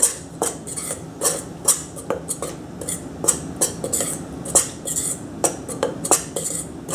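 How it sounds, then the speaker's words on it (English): A spoon clinks and scrapes steadily against a bowl while ingredients for chicken nuggets are mixed, with repeated close, bright taps at a quick, uneven rhythm and no talking. "Gotta get a spoon here. Let's go ahead Mix this up."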